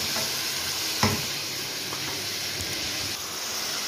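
Chicken frying in oil in a pan for karahi is stirred, giving a steady sizzle and hiss with a few soft scraping knocks of the spoon, heard close with no talking.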